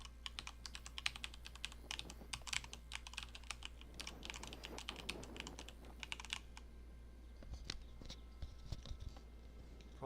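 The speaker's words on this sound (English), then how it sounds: "Probably move my mic away from all my keyboard. Realize it's probably pretty loud, huh?" Fast, steady typing on a computer keyboard close to the microphone, a quiet stream of crisp clicks that thins out toward the end, with no talking.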